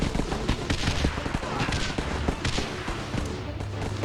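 Rapid bombing explosions and gunfire in the mobile video game GUNS UP! crackle and thump in a dense, continuous barrage of sharp bursts over a low rumble.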